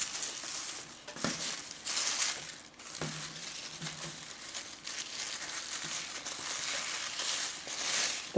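Plastic bag yarn (plarn) crinkles and rustles in irregular bursts as it is wound by hand into a ball, close and moderately loud.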